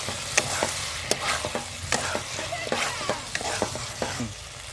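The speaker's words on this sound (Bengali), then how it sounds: "এবার আমি দিয়ে দেবো ভেজে রাখা পনিরগুলো। পনিরগুলো দিয়ে ভালো করে কষে নিয়ে" Fried paneer cubes and green peas for mutter paneer are stirred in a hot pan, making a soft continuous sizzle broken by repeated scraping strokes of a spoon, close and fairly quiet.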